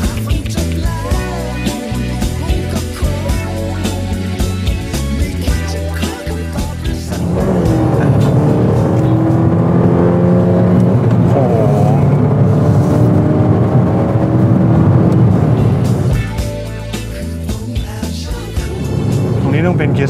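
A Lamborghini Murcielago SV engine roars loud and sustained while driving, its pitch climbing and falling through gears, with people talking over the steady engine noise inside the car.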